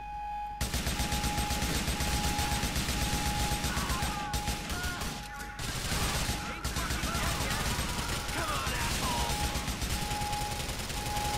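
Gunfire from an AK assault rifle in the video game GTA IV: The Lost and Damned, with loud, repeated rapid bursts and crashing impacts over a steady tone, plus brief pauses and a voice talking intermittently.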